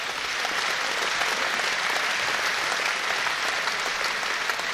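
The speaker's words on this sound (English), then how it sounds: "A nice round of applause, please, for both lads." Steady, dense crowd applause fills the hall after a six-round amateur boxing bout, loud and sustained without pause and with no talk over it.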